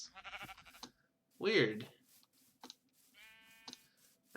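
Sheep bleating in Minecraft among a flock of gray sheep, with short bleats rising between stretches of conversation that runs through most of the moment.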